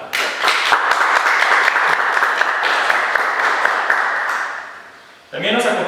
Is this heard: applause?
yes